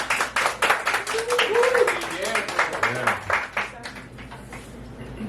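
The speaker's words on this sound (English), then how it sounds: "Hugs and applause, please," An audience at a poetry reading in the Rialto Theatre applauds, with dense clapping for about four seconds under voices and cheering before it thins out and fades.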